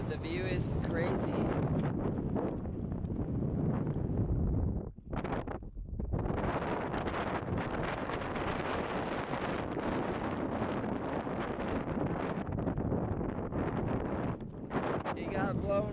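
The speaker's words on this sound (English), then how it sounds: "So we made it to the top and it's super windy." Strong gusty wind on a mountaintop buffets the microphone in a continuous loud roar, easing briefly before surging again, with a voice faintly underneath.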